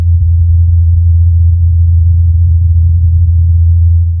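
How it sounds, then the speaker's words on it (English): The Mars helicopter flying, captured by a NASA rover microphone on the Martian surface: a steady, low, continuous hum with no other sounds and no speech. "This is the sound of a helicopter flying on Mars."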